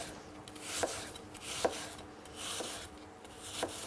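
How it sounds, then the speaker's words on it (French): A knife cuts an apple into thin, even slices on a board, making rhythmic rasping strokes roughly every second, each ending in a soft tap, close and clear with no talk. "avec votre couteau, vous allez commencer à tailler des lamelles de même épaisseur, le plus fin possible"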